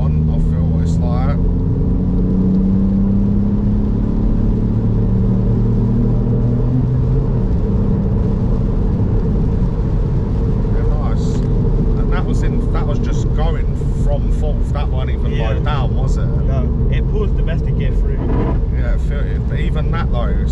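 A Ford Fiesta ST Mk8 Performance Edition engine drones from inside the cabin, climbing in pitch as the car accelerates, with voices talking over the steady road rumble.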